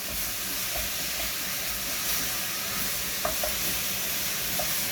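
Chopped onion sweats in a hot pan with a steady, loud sizzle and hiss. Occasional stirring clicks and pops sound close.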